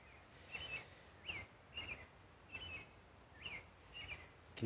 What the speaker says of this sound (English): Can hear a nice robin there.